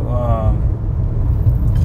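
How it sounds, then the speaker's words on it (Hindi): Maruti Brezza manual car driving in third gear, its engine a steady low rumble from inside the cabin, with a brief voice at the start. "इसका इंजन एकदम से बढ़िया फीडबैक दे रहा है तीसरे गियर में गाड़ी चल रही है"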